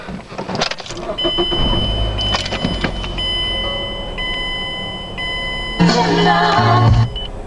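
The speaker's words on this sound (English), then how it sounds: "now it's time to start the car" A car engine with a replaced upstream O2 sensor and the check engine light on turns over and settles into a low idle, with electronic chimes and beeps sounding over it.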